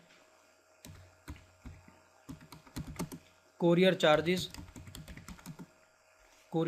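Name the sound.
typing on a computer keyboard in accounting software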